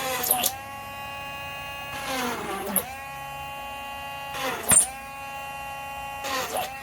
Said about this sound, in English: I've got a little drill bit on my Dremel here.